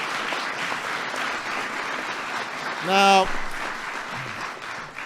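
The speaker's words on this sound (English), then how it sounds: "Please, everybody, give them a big round of applause." Audience applause at the White House, a steady broad wash of clapping from a crowd at a ceremony honoring NBA champions, with a brief louder vocal burst partway through and a voice speaking over it.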